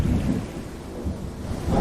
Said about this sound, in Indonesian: Hujan lebat pun turun disertai dengan petir yang menggelegar.